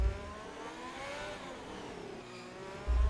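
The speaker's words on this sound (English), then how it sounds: "Listen to those beautiful engine notes." Racing car engines on the Monaco circuit in a racing video game, a steady near roar with shifting pitch as the car runs through the tunnel, swelling louder at the end.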